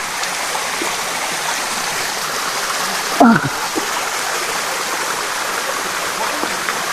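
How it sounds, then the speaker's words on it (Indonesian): Rushing water of the Ibu Giong waterfall roars steadily as a constant broadband wash, with one brief splash or knock partway through and no talking. "Nah itu dia air terjunnya."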